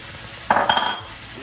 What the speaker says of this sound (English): I just love the non-stick pan. we're gonna add the onions.